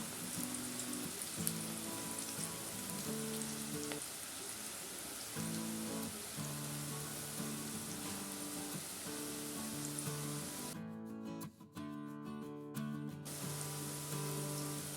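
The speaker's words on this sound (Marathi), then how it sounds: "जेवढे बसतील तेवढेच कारले आपल्याला फ्राय करून घ्यायचे" Masala-coated bitter gourd (karela) slices fry in oil over a medium flame, giving a continuous, even sizzle like light rain, close and moderately quiet, with a steady low hum beneath.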